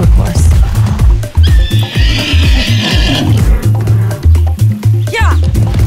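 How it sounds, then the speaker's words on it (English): A horse whinnies loudly in Far Cry 6, a long wavering neigh that rises over rhythmic galloping hoofbeats and game background sound. "That's a good horse."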